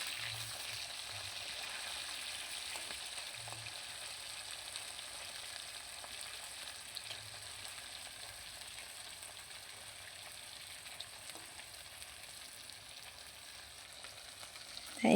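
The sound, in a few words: fish frying in oil in a pan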